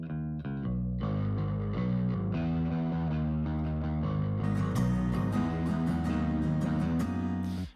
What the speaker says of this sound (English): I got this distortion on the bass, which is coming in.